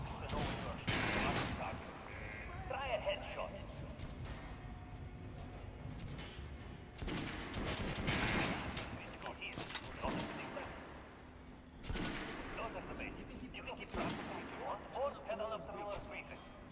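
Alternate-fire gunshots from a weapon in the video game Metro Last Light Redux, sharp bursts scattered through the clip over a steady game backdrop, with someone talking over much of it.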